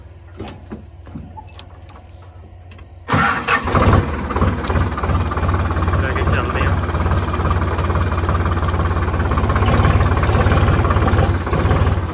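A tractor engine cranks and catches after a quiet start, then settles into a loud, steady, rumbling run that continues to the end without speech.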